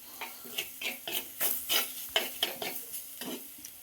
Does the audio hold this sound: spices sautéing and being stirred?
yes